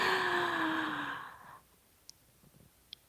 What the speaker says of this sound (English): when you take your deep inhale in, inhale all those things that make you happy